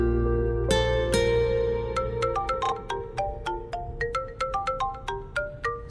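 A phone ringtone plays a bright, plinking melody: a few sustained tones, then a steady run of quick repeated notes, loud and close.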